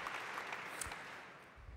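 Faint, distant applause from a conference audience in a large hall, forming a soft, even patter that tapers off slightly toward the end.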